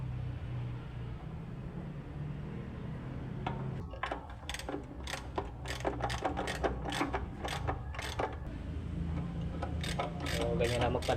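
A ratchet clicks in quick repeated bursts while screws are tightened on a Mitsubishi truck clutch during a clutch lining replacement, its sharp ticks standing out close over steady background workshop noise.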